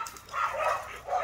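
A neighbour's dogs bark in a short, close, fairly loud burst while a pet dog jumps about with them outdoors.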